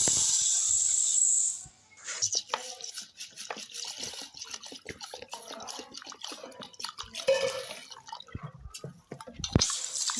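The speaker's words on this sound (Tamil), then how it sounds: "இதை வந்து நம்ம இப்போ முதல்ல ஒரு 3 முறை கழுவி எடுத்துக்கலாம்." Green gram (moong beans) being washed in water: swishing, dripping and the patter of wet beans being stirred and rubbed by hand, close up, in irregular bursts after an initial steady rush of pouring water.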